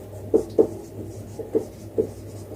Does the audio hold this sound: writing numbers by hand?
yes